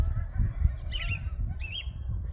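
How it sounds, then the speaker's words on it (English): Geese flying overhead on a spring evening, a couple of distant honking calls over a low rumbling outdoor background. "Seeing the geese fly overhead like that."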